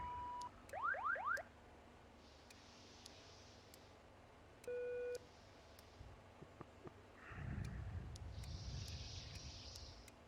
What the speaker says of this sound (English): We'll check our alarms.